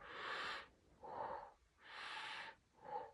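A voice imitates the strained wheezing breathing of constricted lungs: four rasping breaths alternating in and out, close and fairly quiet, with no words.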